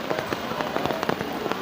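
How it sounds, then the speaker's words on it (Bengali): Rain drumming on umbrellas while people walk to see the deity during Nabami in Kaliyaganj, close, irregular pattering taps over a constant wash of rainfall. "বৃষ্টির মধ্যে আমরা ছাতা নিয়ে যাচ্ছি হেঁটে হেঁটে ঠাকুর দেখতে।"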